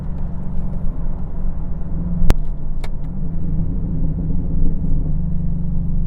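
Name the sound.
Chevrolet TrailBlazer SS engine accelerating while driving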